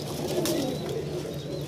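Highflyer pigeons kept in a loft in Lahore coo softly and repeatedly, low murmuring calls close by over faint background noise, with no talking.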